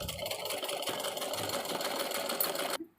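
A sewing machine stitches dress fabric for a child's frock, giving a steady, fast mechanical whir that runs evenly at moderate volume and then stops abruptly near the end.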